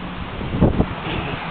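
Outdoor wind buffets a microphone with a constant rumbling rush, swelling into two brief gusts midway, with no talk.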